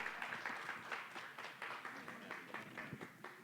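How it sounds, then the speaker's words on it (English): A comedy club crowd at a Blue Grasshopper comedy night applauds a comedian, with dense, steady clapping and scattered cheers that hold at a fairly even level throughout. "Come on, everybody, get a round of applause."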